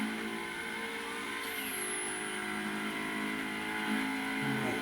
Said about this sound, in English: Alright, this car is a lot of fun to drive though.